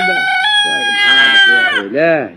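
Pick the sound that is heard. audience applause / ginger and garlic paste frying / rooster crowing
rooster crowing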